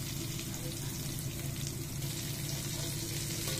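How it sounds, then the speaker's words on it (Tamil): Chopped onions frying in ghee rice preparation, a continuous dense sizzle in the pan at close range, steady and unbroken with no other sounds standing out. "வெங்காயத்தை வதக்குங்க. வெங்காயம் வந்து பொன்னிறமாக வதங்கணும்."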